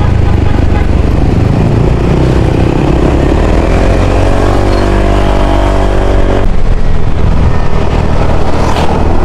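Yamaha NMAX motorcycle engine on a group breakfast ride, a loud continuous drone mixed with other bikes and road noise, a brief pitch sweep as one passes close, with voices partly audible underneath.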